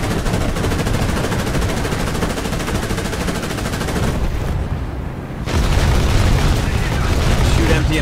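A gun in War Thunder fires continuously until empty, a loud, dense rattle of rapid shots that drops briefly, then resumes even heavier.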